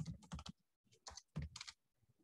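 Close, quiet keystrokes on a computer keyboard tap out a Linux command in quick irregular bursts, with short pauses between clusters of clicks.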